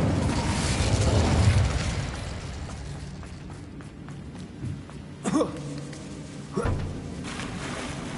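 An Incendio fire spell cast in Hogwarts Legacy gives a few short whooshing bursts with soft fiery crackle over a rumbling game background, the bursts spaced a second or so apart.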